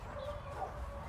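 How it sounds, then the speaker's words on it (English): Dogs barking in the distance outdoors on a mountain walk, faint yips and whimpering tones over a low background hum. "Those people's doggies are barking."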